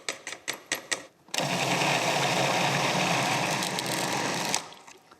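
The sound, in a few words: blender pureeing vegetables for soup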